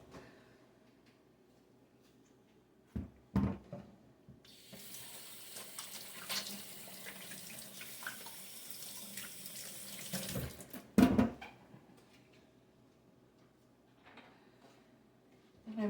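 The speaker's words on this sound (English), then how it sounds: "And I am going to wash my hands." A kitchen faucet runs while hands are washed during roast chicken preparation, a close splashing stream that starts after a couple of clanks, cuts off, then a knock or two follows; no talking.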